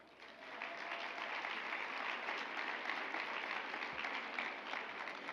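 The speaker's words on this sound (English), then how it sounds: "let's give another round of applause to the Junior League of Charlotte" Steady, dense applause from a large audience at an awards banquet, a continuous even wash of many hands that stays at a constant level throughout, heard from some distance with no voices over it.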